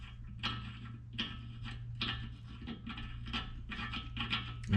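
A threadlocked wheel stud is worked into the hub of a drift car, giving a run of close, ratcheting mechanical clicks and scrapes in uneven bursts over a steady low hum.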